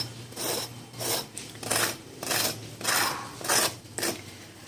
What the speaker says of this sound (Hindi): आप इसका साउंड सुन सकते हैं, ये कितना क्रिस्पी बना है